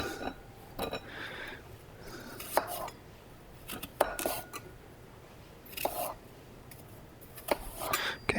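A knife slicing apples for an apple pie on a cutting board, irregular sharp clicks and taps of blade on board and fruit, close and crisp, with quiet gaps between cuts.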